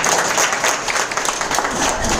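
An audience at an indoor meeting breaks into loud, dense applause, a continuous wash of clapping that carries through the whole stretch.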